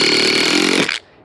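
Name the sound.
drill driver driving a self-tapping screw into wood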